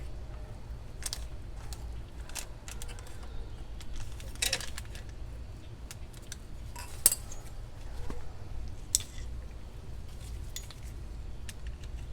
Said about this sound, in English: First, we're going to remove the cotter pin here.